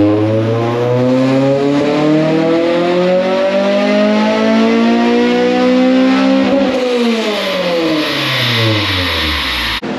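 A BMW G23 engine revs hard and loud without a break, its pitch climbing steadily, dropping sharply near the end, then rising again.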